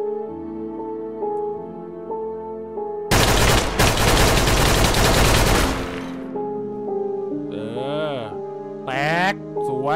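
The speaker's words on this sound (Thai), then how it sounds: "ดีไหมก็เป็นปืนยิงมันแล้วกัน" Gunfire aimed at Siren Head in Minecraft: a loud, dense burst of rapid shots lasting about three seconds, set between wavering tonal music and eerie warbling cries.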